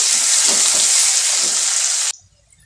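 Onion hits hot oil in a pan with a loud, bright, continuous sizzle, holding steady for about two seconds before cutting off abruptly into near quiet.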